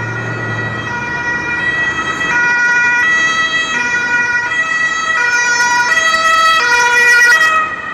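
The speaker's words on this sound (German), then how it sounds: "eine Möglichkeit wäre mit Blaulicht und Martinshorn" Wailing emergency vehicle siren with blue lights on a Stuttgart street at a large construction site, loud and close, its pitch sweeping up and down steadily in traffic.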